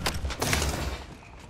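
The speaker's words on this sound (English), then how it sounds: "Are you guys hearing that gunfight?" A distant gunfight in a video game comes through as a short burst of muffled shots and thuds that quickly fades.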